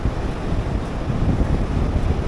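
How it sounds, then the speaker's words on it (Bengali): Sea waves roar with strong wind buffeting the microphone on Mandarmani beach in rainy weather, a steady, loud, continuous wash with no voices. "সমুদ্রের গর্জন, তারপরে এখানকার হাওয়া"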